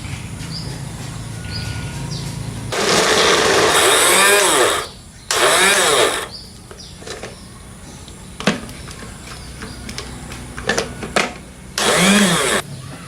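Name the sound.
blender blending leaves with water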